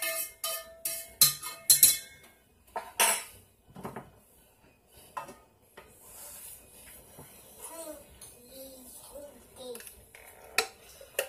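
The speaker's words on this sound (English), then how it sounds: "Stir it all up." A spoon clinks against the inside of a mug as International Delight Cold Stone creamer is stirred into coffee, with quick close metallic taps at first, then a child's babble and some talk.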